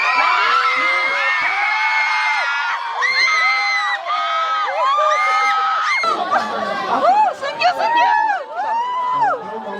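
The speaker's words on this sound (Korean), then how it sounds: "자리에 앉으셔서 가장 큰 함성을 예, 주시는 분께" A Korean cinema audience at a stage greeting for the film Rebound shouts, screams and cheers loudly, many high-pitched voices overlapping in a sustained, rising clamour close by.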